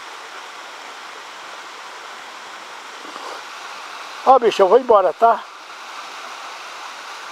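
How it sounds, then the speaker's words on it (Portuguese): Steady rushing waterfall in a forest, a continuous broadband roar throughout, with a short burst of close speech partway through. "Olha, aqui tem uma cachoeira, tá ouvindo o barulho d'água, né?"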